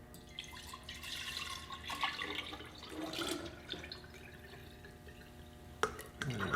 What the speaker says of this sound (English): I'm going to try to pour this back in the jar here